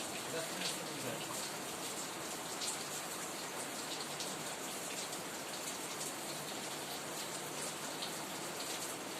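Steady rain falling during the rainy season, a dense even hiss of drops at moderate loudness that continues unbroken.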